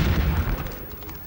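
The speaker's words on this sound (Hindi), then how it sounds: "सामने तोपें गरज गरज कर जय जयकार कर रही हैं" A ceremonial artillery gun salute booms at the Republic Day Parade, a deep, loud low rumble that decays over about a second with no speech.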